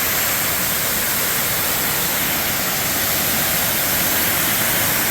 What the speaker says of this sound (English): And it just cascades down the mountain. I'm sure that's Katahdin Stream, is what they call that stream.